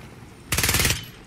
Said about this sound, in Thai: ก็ว่าอยู่มันมีเสียงยิง